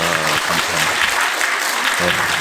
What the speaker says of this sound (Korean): 옆 사람과 찬양대 너무 은혜스러웠는데 박수 한번 하십시다